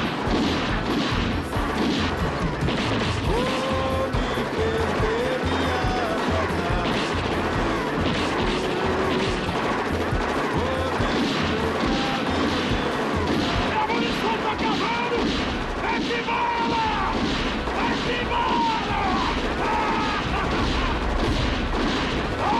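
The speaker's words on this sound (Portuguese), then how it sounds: "Agora vai começar o tiroteio." Dense, continuous gunfire and blasts crackle and boom for a long stretch in a staged shootout, with shouting voices mixed into the chaotic din.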